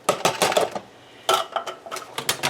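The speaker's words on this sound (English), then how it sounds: "Now, in this pot, I'm going to dump the mushrooms" Mushrooms tumble into a pot in a few quick clattering bursts, a short pause, then another scatter of light knocks and rattles, close and fairly loud.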